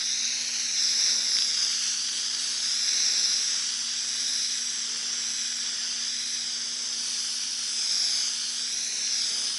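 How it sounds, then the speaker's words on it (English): Dark green spray paint hisses from a can or airbrush onto a model in one long continuous spritz, faint and close, swelling slightly in places. "I'll kind of spritz it over with a little dark green."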